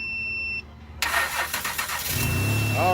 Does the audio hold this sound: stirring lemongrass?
no